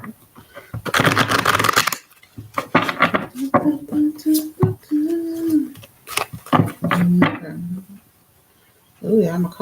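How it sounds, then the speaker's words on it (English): A deck of cards is shuffled in several crisp, riffling bursts close to the microphone, with a person talking in between and over the shuffles. "I'm shuffling this good now"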